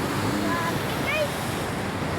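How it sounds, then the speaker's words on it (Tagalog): Ocean waves washing in at a river mouth, a steady broad roar of surf mixed with wind buffeting the microphone, continuous and fairly loud with a faint voice in the background. "Mga alon guys."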